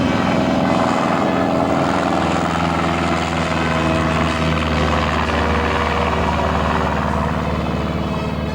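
A light aircraft's propeller engine drones steadily and loud at close range for the whole stretch, a dense continuous roar with no talk over it.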